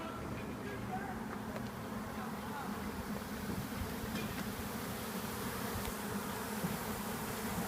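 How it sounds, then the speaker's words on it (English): Honeybees buzz thickly around a hive entrance, a dense and continuous hum that stays close and even from start to finish, with a voice faintly underneath. "Trying not to smash a bunch of bees"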